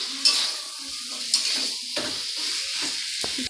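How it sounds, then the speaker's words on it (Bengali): Chicken being mixed with spices in a pan for a curry, with a spoon scraping and clinking against the metal in several distinct strokes over a light sizzle. "আমি ভালো করে চিকেনের সাথে মশলাগুলো এবার মিশিয়ে নিচ্ছি।"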